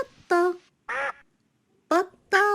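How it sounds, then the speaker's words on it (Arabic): Four nasal duck quacks sound close and loud in an irregular sequence, with gaps of silence between them, in a children's animal-sounds lesson. "بطة بطة."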